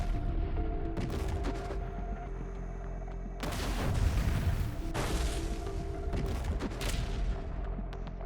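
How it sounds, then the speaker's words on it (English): Russian artillery firing in a forested combat area, heard as loud, dense bursts of booming fire with a sustained heavy barrage in the middle and continuous rumbling between shots. "this time Russian artillery opened fire"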